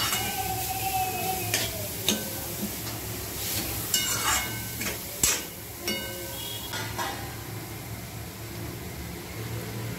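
Beetroot vegetable tossed with coarsely crushed peanuts in a pan, with a spoon scraping and clacking in irregular strokes over a soft, continuous sizzle.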